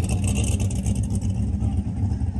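A Gasser drag car rolls past at a car show, its engine a loud, steady low rumble that holds throughout, with faint crowd noise behind it.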